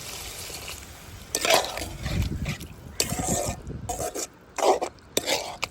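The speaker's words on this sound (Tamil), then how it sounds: "தண்ணி ஊற்றிக்கலாம்" Water splashes into a cooking pan of mullet and conch meat gravy in short bursts, mixed with clinks and scraping of utensils against metal.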